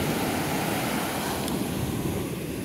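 Ocean waves breaking along the beach at Ocean City, Maryland, with rip currents expected as a hurricane passes offshore; a steady, loud wash of surf and wind fills the whole stretch without pause.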